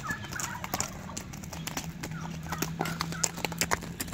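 Horse hooves clip-clop at a steady walking rhythm on a roadside, fairly close, with faint birds and a low hum in the background.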